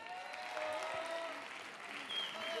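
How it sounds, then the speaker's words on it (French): Audience applause for young apprentice bodywork students performing a theatre piece, a dense, steady clapping that fills the whole stretch without pause. "Mathieu, Adi, Cyril, Jérémy et Julien, que l'on peut encore applaudir."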